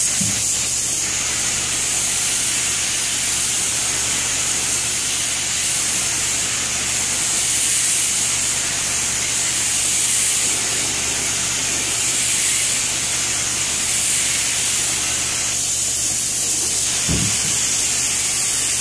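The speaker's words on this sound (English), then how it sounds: "I'm going to be using my shading gun first, and I'll come back with the lacquer." Steady hissing spray from a shading spray gun applying color to a mahogany hutch during refinishing, a continuous broadband spray lasting nearly the whole stretch with a brief knock near the end.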